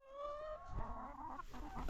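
Chickens clucking inside a mobile free-range chicken caravan, a close, continuous run of clucks and calls from several birds, with no talking.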